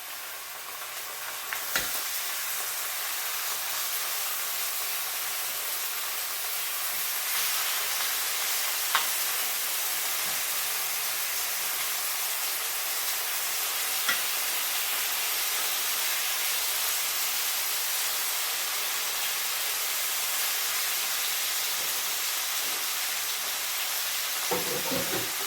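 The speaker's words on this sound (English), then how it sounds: "And you want to hear that sizzle." Pork chops sizzle steadily in a hot olive-oil skillet, a continuous broad frying hiss at moderate level with a few faint clicks and pops, no voices throughout.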